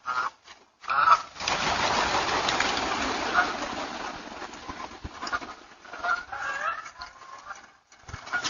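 Geese honk and squawk in a noisy flurry outside a front door, captured through a small doorbell-camera microphone, with overlapping calls rising and falling and some other sounds mixed in.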